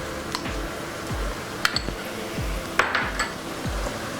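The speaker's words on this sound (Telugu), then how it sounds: "మసాలా అంతా పచ్చివాసన పోయే వరకు మనం ఫ్రై చేసుకుందాం" Masala frying with onions in a pan for drumstick chicken curry, a soft sizzle under repeated scraping stirs and a few sharp clinks of the utensil against the pan, close and rhythmic.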